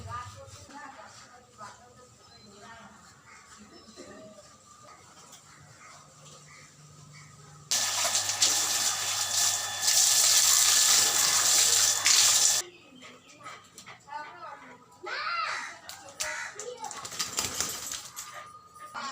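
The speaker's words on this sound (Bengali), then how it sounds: "শ্যাম্পু মেখে লিও সুন্দর করে স্নান করবে" A tap runs water loudly into a tub for a few seconds while a dog gets a shampoo bath indoors, with splashing and people talking before and after the flow.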